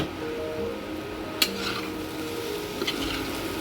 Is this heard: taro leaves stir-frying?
yes